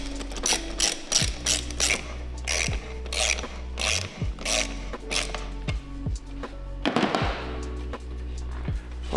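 A ratchet wrench tightens a 4-inch intake pipe clamp on an Audi 4.0T engine, giving a series of crisp, closely spaced clicking bursts with short pauses, near and clear with no talk.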